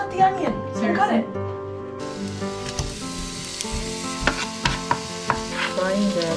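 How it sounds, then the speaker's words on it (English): Cabbage sizzles and crackles in a hot pan while cooking Mongolian tsuivan, a loud continuous frying hiss with stirring clatter and people talking nearby. "Frying the cabbage."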